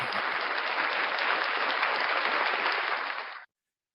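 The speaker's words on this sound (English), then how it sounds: "Round of applause for Leland Squirrels" A crowd at a live breakfast show claps loudly and evenly for Leland Squirrels, a sustained burst of applause that cuts off abruptly just before the end, followed by silence.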